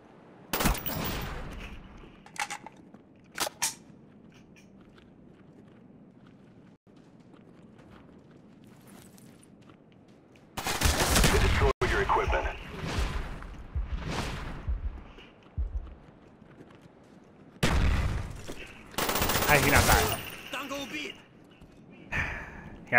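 Sentry gun firing in Borderlands, dense bursts of shots around eleven and eighteen seconds separated by quieter stretches, with a player talking throughout.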